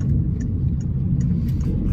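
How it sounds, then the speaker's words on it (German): A car drives through the quiet early-morning streets of Durlach, a low, steady engine and road rumble from inside the cabin, with faint high chirps above it. "Wir fahren hier auf den Straßen von Durlach."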